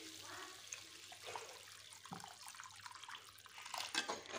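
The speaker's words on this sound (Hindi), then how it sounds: "अब इसमें हम पानी डालेंगे" Water pours into a pan of cooking masala gravy for a raw banana curry, a steady close splashing and trickling rush that swells toward the end.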